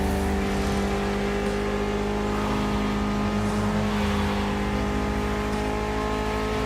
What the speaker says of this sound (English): Mitsubishi gave us a nice inline four-cylinder with already 280 horsepower that we're gonna turn up a bit.